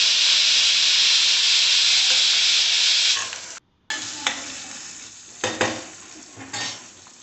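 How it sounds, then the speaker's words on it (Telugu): Onions, curry leaves and chopped green chillies fry loudly in a pan with a strong hiss that cuts off abruptly, then come scattered clinks and scrapes of a spoon stirring over a quieter sizzle. "ఉల్లిపాయ ముక్కలు కరివేపాకు పచ్చిమిర్చి ముక్కలు యాడ్ చేసుకోవాలి ఇవన్నీ చక్కగా ఫ్రై అవనివ్వండి"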